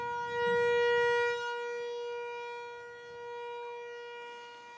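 A loud, steady siren wails continuously with a sustained tone at an American Legion baseball game, swelling slightly early on and then holding at a constant level to the end.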